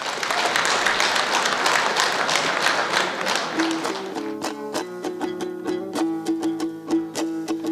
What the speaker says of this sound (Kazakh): Кол чаап, тосуп алыңыздар.